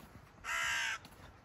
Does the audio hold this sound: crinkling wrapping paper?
no